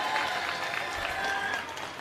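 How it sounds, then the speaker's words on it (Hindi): A crowd at an Indian political speech breaks into dense, sustained applause, a steady wash of many hands clapping at an even level, with crowd noise mixed in. "एक बार जोरदार ताली बजा दो"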